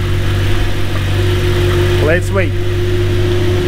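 Audi R8 R-tronic engine idling steadily with a fresh clutch during adaptation, a constant low hum through the whole stretch while someone speaks briefly over it.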